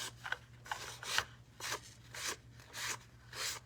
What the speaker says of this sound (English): Let's see if I could sand, what it would happen if I sanded it off.